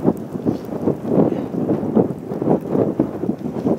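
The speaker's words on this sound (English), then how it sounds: "This is quite breezy, quite cold." Cold, breezy wind outdoors around a Coleman propane coffee maker, a steady low rumbling buffet of wind noise gusting across the microphone throughout, with no voices.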